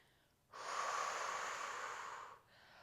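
A single long, steady exhale during a full body stretch, soft and close, rising suddenly and holding for about two seconds before fading out.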